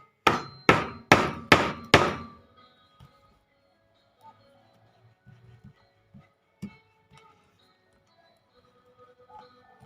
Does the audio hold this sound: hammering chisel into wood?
yes